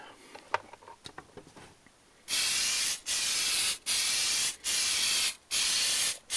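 A spray can hisses finish onto a wooden craft heart made of craft sticks and basswood, in five steady bursts each about a second long with short gaps, close and loud after a few soft handling clicks.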